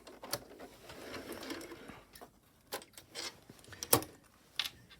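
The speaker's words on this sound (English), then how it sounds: "I'm going to stitch this just as a basting stitch, just to hold this in place." A sewing machine runs a basting stitch across a tote bag in short, close bursts of mechanical whirring and ticking separated by brief pauses, with no voice over it.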